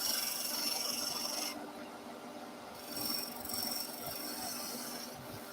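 A diamond burr scraper makes a light cut on a wooden bowl spinning on a lathe, giving a quiet, steady rasping scrape that eases off briefly and then resumes.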